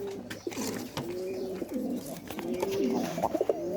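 Pigeons in a loft with many squabs coo in repeated low, throaty phrases, close by and overlapping, with faint rustling and small chirps between calls.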